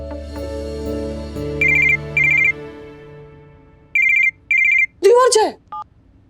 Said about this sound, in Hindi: समीर को फोन कर